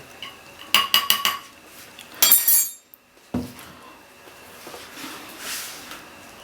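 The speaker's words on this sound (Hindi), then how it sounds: "और अब हम इसके अंदर चम्मच घुमाते रहेंगे" A metal spoon stirs and scrapes around a pot of Kashmiri pink tea, giving a quick run of bright clinks, then a louder rattling scrape and a dull knock, with softer stirring noise continuing after.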